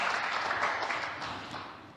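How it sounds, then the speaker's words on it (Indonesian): Church congregation clapping steadily through a sermon, a dense wash of applause that holds loud for about two seconds and then slowly fades, with no talking over it. "Beri tepuk tangan kemuliaan buat Allah kita yang dahsyat yang luar biasa."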